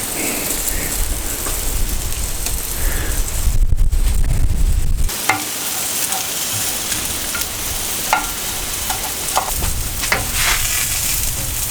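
Home-grown garden peppers sizzle on a barbecue grill, a constant close crackle and hiss with a few clicks and scrapes as they cook.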